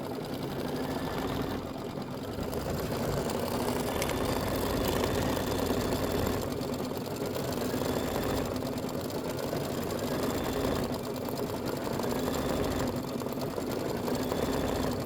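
A computerized embroidery machine stitches an appliqué block for a Kimberbell traditional appliqué quilt, a steady close mechanical whirr with fast, even needle chatter that runs without a break.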